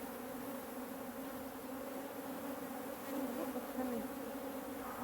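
Steady, dense buzzing of many African honey bees hovering close around a hive, a continuous droning hum that swells slightly louder toward the end.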